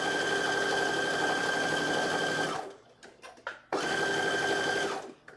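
A sewing machine stitches along a garment placket in two steady, loud runs of rapid mechanical chatter. A short pause between them carries faint clicks and handling noises.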